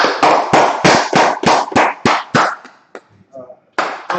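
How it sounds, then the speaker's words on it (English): Rapid, evenly spaced handclaps ring out close and loud at a stand-up comedy show in Minneapolis, about ten sharp claps before a brief pause and a final clap, with voices in the room. "let's clap it up"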